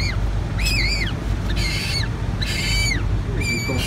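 Shrill, rising-and-falling squawks from a newborn penguin chick, four separate calls at fairly even intervals over a steady low background rumble.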